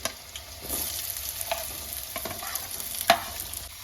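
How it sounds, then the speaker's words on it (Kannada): Onions fry in a pan with chilies that were fried first, for egg rice, giving a close, steady sizzle with a few scrapes and a sharp clink near the end, and no talking. "ಇವಾಗ ನಾನು ಇದರೊಳಗಡೆ ಈರುಳ್ಳಿನ ಹಾಕೊಳ್ತೀನಿ"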